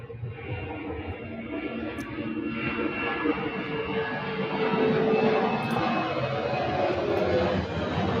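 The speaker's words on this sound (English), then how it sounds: "Here comes a plane." An airplane passes overhead as a broad, rising roar that swells steadily louder over several seconds, a low rumbling wash with no voices.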